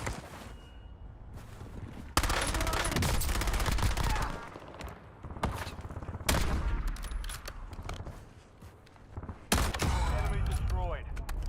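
Call of Duty: Warzone gunfire comes in loud bursts of rattling automatic shots with quieter gaps and booming impacts between them, while voices speak over and between the firing.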